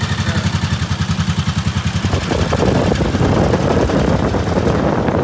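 Triumph T20M motorcycle engine idling with a fast, even pulsing putter, then the sound shifts into a broader, rougher clatter for the remaining seconds, loud and close with no talk.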